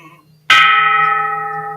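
A ritual bell is struck once during a Buddhist chant, giving a sharp, loud strike followed by a long, steady ringing tone that slowly decays with rich sustained overtones.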